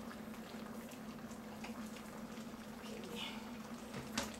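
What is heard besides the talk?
peanut brittle candy mixture boiling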